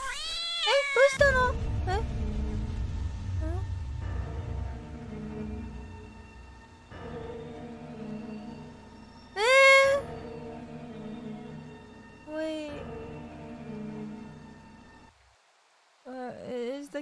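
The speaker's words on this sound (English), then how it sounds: "Is the cat in pain?" A cat meows in the horror video game Shadow Corridor, sounding several distinct, drawn-out, pained cries spread across the stretch, loud and close, with a player speaking briefly between them over a low ambient hum.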